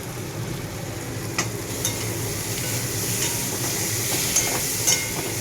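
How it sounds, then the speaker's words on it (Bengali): Potatoes and spices sauté in a pan for a katla fish curry, giving a steady, close sizzle throughout with a few soft clicks and scrapes of stirring. "ভালো করে কষিয়ে নিচ্ছি।"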